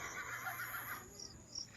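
A horse neigh played as a sound effect during a Filipino ghost-hunting stream, a bright whinny with falling harmonic tones that fades into quieter breathy noise, fairly faint and heard alone without speech.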